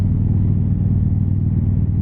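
A car driving through an intersection gives a steady, loud, low engine rumble from inside the vehicle, with no talking.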